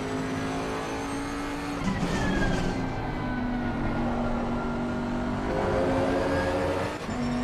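Bentley race car engine at Kyalami in a sim racing game, a steady close droning roar with shifting pitch as it revs and accelerates, with tire noise and other cars around.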